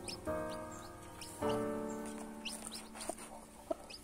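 A hen clucks in two drawn-out, nasal bursts, followed by a few short, quieter clucks and ticking sounds nearby.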